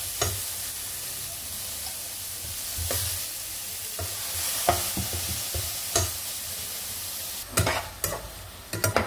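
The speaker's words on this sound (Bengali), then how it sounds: "এখন এখানে আমি এই আমার পেঁয়াজ আদা রসুন চিংড়ি মাছ এগুলো মোটামুটি ভাজা হয়ে গেছে" Onion, ginger, garlic and shrimp fry with spices in a pan, giving a continuous close sizzle broken by repeated scraping stirs that grow busier toward the end.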